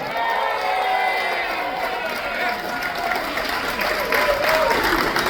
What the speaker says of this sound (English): by the measure of your round of applause